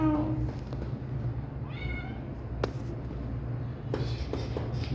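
A cat meows several times in a row indoors, with short rising and falling cries, close and clear over a steady hum of air conditioning.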